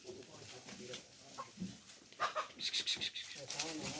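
Teddy goats on a farm in Talagang, with short bleats rising over a background of people talking nearby, the calls growing more frequent toward the end.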